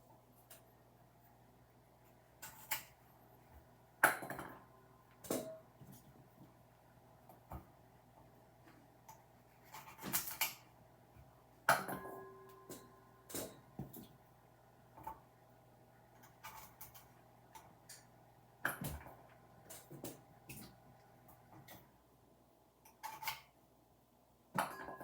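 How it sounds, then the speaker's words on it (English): A knife cutting the ends off asparagus on a board, with scattered sharp clicks and taps at irregular intervals over a low steady hum in a quiet kitchen. "we're going to cut the ends off of our asparagus"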